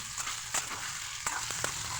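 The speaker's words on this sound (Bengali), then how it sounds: "লবণ দেওয়ার পর আবার আমি পেঁয়াজটাকে ভেজে নিচ্ছি" Sliced onions fry in a pan after salt is added, a steady close sizzle with occasional crackles and light stirring scrapes, no voices.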